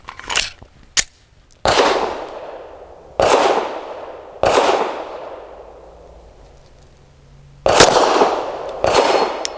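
Loud pistol shots from an Ermox X-fire firing Syntec Action Pistol Gamer Load 150 grain ammunition, about eight sharp cracks in uneven bursts, some paired closely, each trailing off in echo outdoors.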